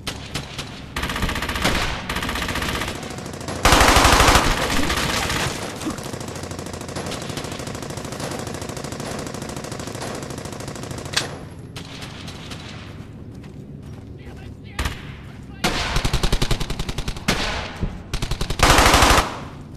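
Machine gun fire rattles through a Brothers in Arms: Hell's Highway battle, loud sustained bursts broken by short pauses, with heavier salvos near the start and end.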